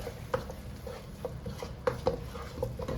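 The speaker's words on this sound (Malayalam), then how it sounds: "ഇതൊന്ന് നമ്മുടെ തക്കാളിയിലോട്ട് നന്നായി ഒന്ന് മിക്സ് ചെയ്ത് ചേർക്കാം" Spoon stirring cooked, ground red chili paste into tomatoes in a pan for chicken tikka masala, giving soft scraping taps and faint clinks at an irregular pace, close and fairly quiet, with no talking.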